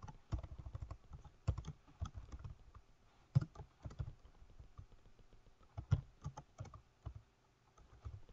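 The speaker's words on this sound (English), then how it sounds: "and just type in" Keys tapped on a computer keyboard while entering text in a CorelDraw design program, heard as scattered bursts of close, quiet clicks with brief pauses between them.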